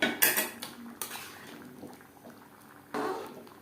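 Tomatoes and green peas go into a pot of nearly cooked vegetarian winter-vegetable khichuri, giving close utensil clinks and clatter at the start, then a quieter stretch and a soft rushing burst near the end, with no talking.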